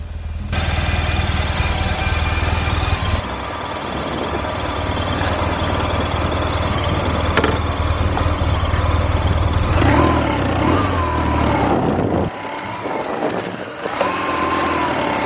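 A cheap auction-bought BMW motorcycle running on a test ride, its engine a steady loud rumble with wind noise, rising and falling with throttle, then dropping briefly before picking up again.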